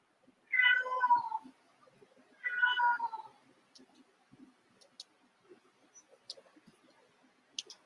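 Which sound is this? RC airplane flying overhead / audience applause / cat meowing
cat meowing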